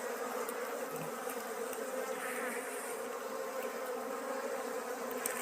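Wild honeybees buzzing in a dense, continuous swarm drone at a forest hive, steady and close, with no talking.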